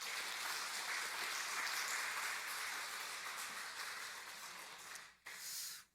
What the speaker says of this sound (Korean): 축복하고 격려하는 박수 하도록 합니다.